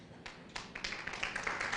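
A church congregation breaks into applause, starting with a few scattered claps that quickly thicken into a steady, fairly quiet patter of many hands.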